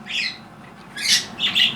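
Pet birds squawk indoors in several sharp, harsh bursts, one near the start and a louder pair toward the end, fairly close with little else around.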